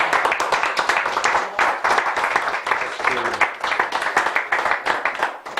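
A church congregation applauds steadily and loudly for several seconds, with dense overlapping clapping and voices calling out over it.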